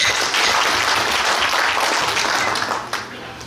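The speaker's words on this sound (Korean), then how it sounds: "일단 박수로 승인 부탁드리겠습니다." Union delegates at a branch assembly give steady applause together, a dense wash of clapping hands that holds evenly and then tapers off near the end.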